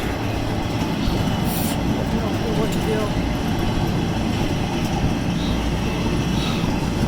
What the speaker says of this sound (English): you notice that locomotive there, which is moving